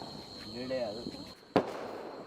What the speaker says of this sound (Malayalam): ഇതൊരു ബട്ടർഫ്ലൈ പടക്കമാണ്.